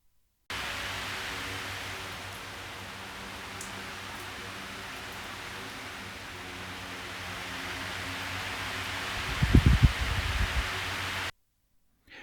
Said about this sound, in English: That's the fan running in my bedroom